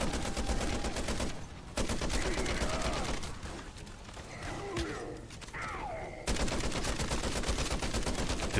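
Rapid bursts of automatic gunfire from a weapon in MW3 Zombies, loud and dense at the start and end with a quieter stretch of scattered hits and game effects in between.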